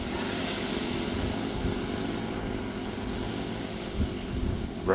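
A model Westland Whirlwind twin-engine airplane drones steadily in flight, its propeller engines making a continuous, moderately distant hum with slight swells near the end.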